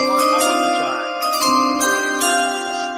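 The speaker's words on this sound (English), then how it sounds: "you need the draft chime" A draft chime rings out during an NFL mock draft, several bright bell-like tones sounding clearly over a sustained ringing hum, with faint background activity.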